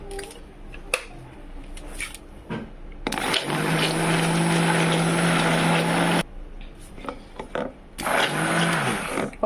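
A blender whirs loudly, mixing papaya puree into soap oils in two bursts, one a few seconds long and a shorter one after a pause, with quieter clinks and handling noises between.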